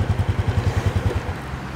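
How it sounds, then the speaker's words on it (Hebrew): A Honda Innova scooter with about 33,000 km on it, still on its original spark plug, idles with a quick, even putter of low thumps that fades out after about a second and a half. "הקטנוע מתניע גם היום בנגיעה"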